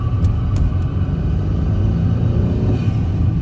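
A BMW F30 with a new intake, driven in sport mode, gives a loud, close, continuous low engine rumble with steady exhaust drone and a few sharp ticks early on.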